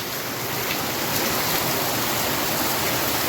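Heavy rain pours onto a road in Junagadh, a steady, dense roar that stays loud and unbroken throughout with no voices.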